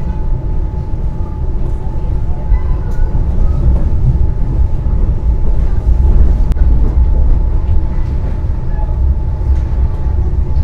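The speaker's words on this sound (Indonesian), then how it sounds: "kereta api Pangandaran telah tiba di Stasiun Bandung" The Pangandaran train pulling into Bandung station, heard from inside as a loud, continuous rumble of rolling carriages with a steady hum.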